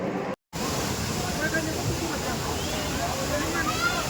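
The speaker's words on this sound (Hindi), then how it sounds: "ये देखो झरना" Kempty Falls waterfall in Mussoorie roars as a constant broad wash of falling water, with crowd chatter and voices mixed in, after a brief silent gap at the start.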